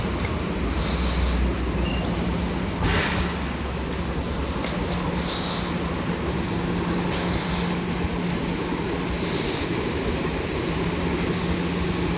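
A steady rumbling roar of a train in motion between Baltimore airport and downtown Baltimore, with constant low-frequency noise and occasional faint squeals and rattles, no talking.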